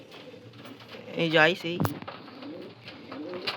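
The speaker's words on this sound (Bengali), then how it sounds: "একটা গিরিবাস নীলদমা পায়রা দেখাচ্ছি" A pet pigeon kept for sale gives a short cooing call, close and clear, while someone speaks briefly before and after it.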